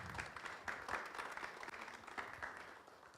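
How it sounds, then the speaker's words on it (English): An academic audience gives a short round of applause for Professor Toppo as he is invited to the dais, steady scattered clapping that is faint and distant, with no voices over it. "A big round of applause for him."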